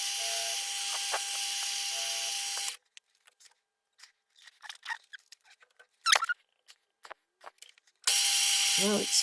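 A small power drill with a 2.4 mm bit whines steadily at high pitch drilling metal on a live-steam tram motor's inlet port, stops for a stretch of quiet scraping and squeaky handling, then starts again.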